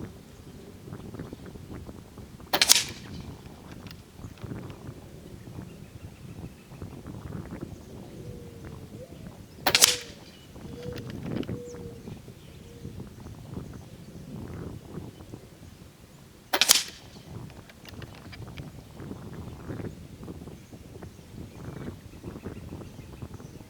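Three sharp, loud reports from a regulated PCP airgun, evenly spaced several seconds apart over a low rumbling, wind-like background.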